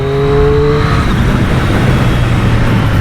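A Triumph Street Triple RS motorcycle engine blips through a quick downshift, its sharp revving note rising and then falling away to a loud, steady engine drone.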